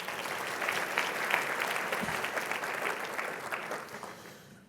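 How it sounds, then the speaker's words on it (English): Sustained applause from a conference audience at a small business finance forum plenary in Austin, steady and dense throughout, tapering slightly at the end. "Let's give another round of applause for Raquel."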